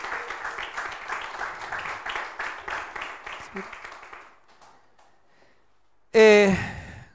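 A church congregation applauds in a steady rolling wave of clapping that fades out after about four seconds, followed by a brief loud voice.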